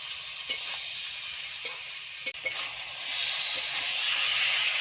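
Potato and jackfruit curry with chopped coriander sizzles in a pan, a steady hissing fry under soft scraping taps of stirring that grow slightly louder toward the end.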